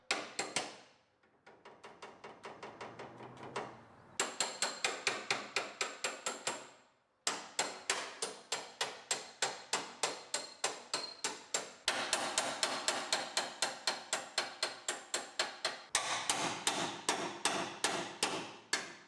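Rapid metal-on-metal hammer blows ring out while seam welds are split apart on a 1965 Mustang car body, steady rhythmic strikes in long runs with brief pauses between bursts, loud and close with no talking.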